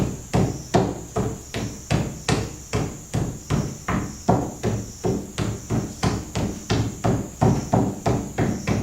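Clay is beaten flat with steady, rhythmic blows, about two to three dull thuds per second, close and evenly spaced throughout, with no talking.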